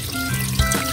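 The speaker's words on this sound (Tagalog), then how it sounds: "lagyan ito ng tubig" A short splash of water pouring into a hot pan, with a faint sizzle and a steady hum in the background.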